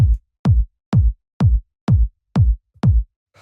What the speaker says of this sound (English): So this one's simple, just like a nice punchy sort of 909 style kick.